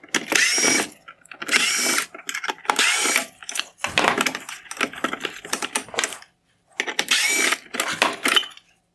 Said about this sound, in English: Next, I'm going to remove the T10 torx screws holding on the chrome bezel.